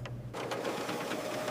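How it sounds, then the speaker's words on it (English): A Canon MAXIFY GX4020 printer running a test page gives a steady mechanical whir and buzz with faint rhythmic ticking, continuous and close for about a second and a half, with no speech. "Then try printing a test page."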